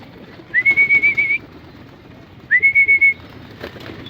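Two bursts of domestic pigeon calls, each a quick series of pulsed whistling coos, separated by a short pause, over faint background noise.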